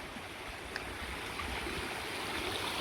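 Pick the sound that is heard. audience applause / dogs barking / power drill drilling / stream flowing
stream flowing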